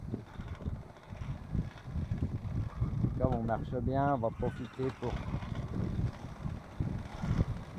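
Wind rushes and buffets steadily aboard a sailboat at sea sailing from Gruissan toward southern Sardinia, a low rumbling roar that persists under someone speaking French.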